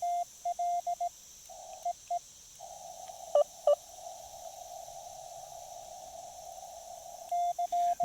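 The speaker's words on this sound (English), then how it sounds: "I love CW memory keying." A Discovery TX-500 radio sending Morse code from its CW memory keyer, a clean steady tone beeping in dits and dahs, then holding one long unbroken note, clear and close over faint hiss.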